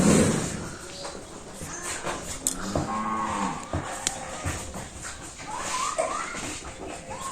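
A cow among livestock on a village farm gives a couple of drawn-out moos, fairly close, amid outdoor background noise.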